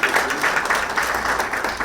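An audience applauding at a strategy launch event, dense continuous clapping from a crowd, steady and moderately loud throughout.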